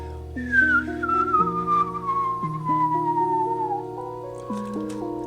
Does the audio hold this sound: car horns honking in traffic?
no